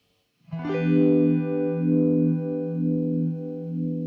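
Vintage 1 mode of the Vibes effect plugin swirls a sustained chord with a slow, chewy, warped modulation that sweeps up and down about once a second, loud and alone after a quick onset.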